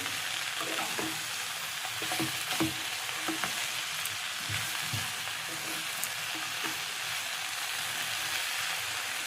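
Pumpkin leaves curry ingredients crackle and sizzle steadily in a hot pan while a utensil scrapes and stirs now and then, close and fairly quiet.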